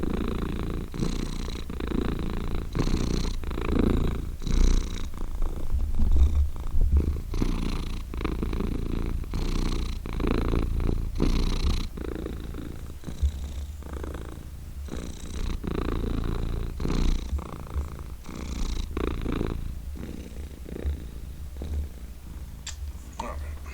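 A cat purrs close up in a steady, rhythmic run of low rumbling pulses, while a person speaks softly over it.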